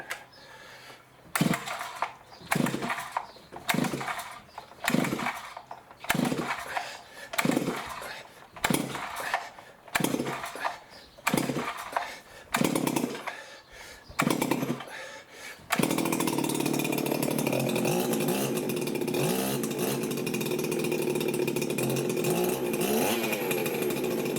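Farmertec ported G366 or G888 chainsaw engine pulled over in repeated rough bursts, then catching at about sixteen seconds into a loud, steady, close high-revving untuned roar.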